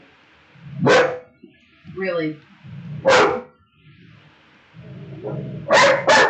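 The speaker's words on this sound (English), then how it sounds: "Warning, dog might bark at any time." A dog barks indoors, with several loud, close single barks spaced apart and a quick double bark at the end, while a person speaks between them.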